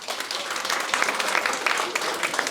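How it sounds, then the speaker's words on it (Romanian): Live stand-up comedy audience in Romania applauding when asked who owns a cat, a steady wash of many hands clapping at moderate loudness with a few voices mixed in. "Aplauze dacă aveți pisică!"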